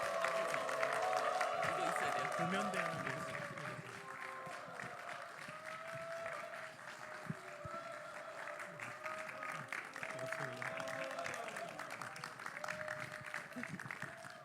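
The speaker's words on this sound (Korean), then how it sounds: "우리 박정욱 원장님 나오셔서 간증 나눠주실 때 우리 환호성으로 함께 모셔보도록 하겠습니다." A church worship concert audience welcoming a testimony speaker with applause and cheers, a broad sustained wash of clapping from a sizable crowd, fairly distant, with music and voices mixed in.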